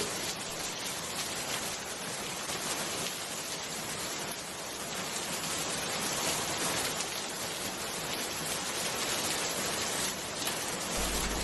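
Steady, dense rainfall hisses evenly throughout, a constant wash of drops without pauses or voices.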